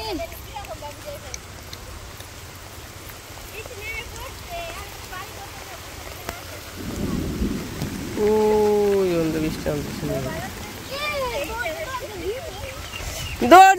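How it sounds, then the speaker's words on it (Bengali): Rain falling in a Bangladeshi village as a steady, soft hiss in the background, while people talk and call out loudly over it nearby. "বৃষ্টি নেমে গেছে কেন"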